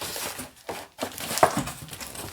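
A blade slicing and tearing through the plastic or paper packaging of a poster print, with close crinkling and a short sharp rip, quiet moments between.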